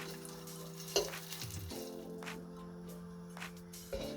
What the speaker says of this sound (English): Make sure you cook the pork fat, you melt it on low heat